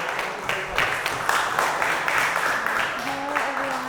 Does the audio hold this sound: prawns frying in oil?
no